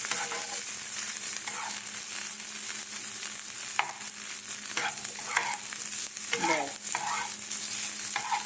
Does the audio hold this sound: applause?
no